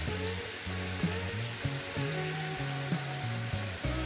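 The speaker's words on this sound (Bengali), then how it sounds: "এরম উল্টে দেবো, দিয়ে আমরা খানিকক্ষণ ভাজবো মাংসগুলোকে" Chicken pieces for Goan chicken cafreal frying in a pan, a steady close sizzle running throughout with a few louder crackles and scrapes as the meat is turned, no talking.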